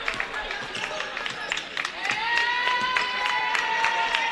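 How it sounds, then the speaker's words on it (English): Players on a college women's basketball bench cheer and shout for teammates late in a lopsided Chipola win, a busy crowd roar with claps, squeaky shoes and whoops. "listen to the players for Chipola on their feet cheering on their teammates"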